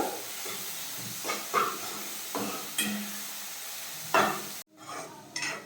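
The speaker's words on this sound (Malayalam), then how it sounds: "ഇനി അതിൻ്റെ ഒരു പച്ചമണം മാറുന്നത് വരെ നമുക്കൊന്ന് വഴറ്റി കൊടുക്കാം" Tomato, crushed ginger and garlic being sautéed in a pan for a chicken leg pepper roast, a steady soft sizzle broken by several scraping stirs of a spoon against the pan, close and without talk.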